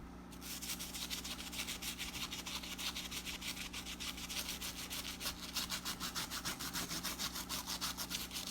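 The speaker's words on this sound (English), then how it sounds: "You gotta let the brush do its work." A brush scrubbing an Air Max 95 sneaker, steady rapid back-and-forth rubbing strokes, close and fairly quiet, continuing evenly throughout.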